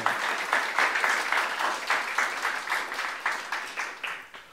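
A church congregation at a youth service claps together in a sustained round of applause, steady and fairly loud with rhythmic pulses, and no voices over it.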